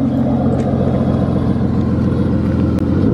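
An Aston Martin DBS engine runs close and loud, a deep steady rumble with a rich low growl holding throughout.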